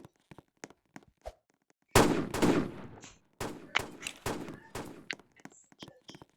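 Gunfire in a first-person shooter video game: sharp shots and short bursts with rapid rhythm, some clustered and some isolated, loud and close, with no voices over them.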